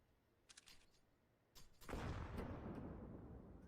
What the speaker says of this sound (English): Nice nade on Skrunk though.